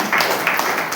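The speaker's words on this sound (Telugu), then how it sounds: "గట్టిగా మరొకసారి దేవుని నామాన్ని గట్టిగా చప్పట్లు కొడదామా?" A church congregation at Sunday worship claps loudly together, a dense, steady wash of many hands that carries on throughout.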